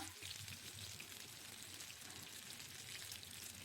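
A large seer fish frying in oil in a flat dosa pan gives a faint, steady sizzle and crackle that continues throughout without any talking.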